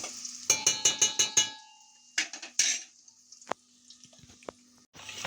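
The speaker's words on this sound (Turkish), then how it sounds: "Havuçları önce soteleyin." Carrots are sautéed in melted butter in a pot, with a quick run of clinking stirs followed by scattered scraping and clattering against the pot, close and fairly quiet, with no speech.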